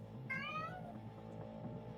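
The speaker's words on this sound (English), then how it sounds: "Whose cat is that?" A cat gives a single short, tonal meow that rises and falls, heard alone over a faint low background hum.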